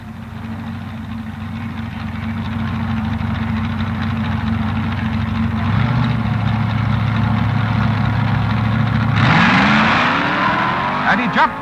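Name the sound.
Ford-powered B-Fuel dragster and Corvette drag racing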